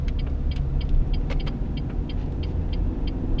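A 2006 Renault Megane Phase 2 with a 1.6 16V engine accelerates, heard from inside as a steady, moderately loud low engine drone with road rumble and light ticking, no speech.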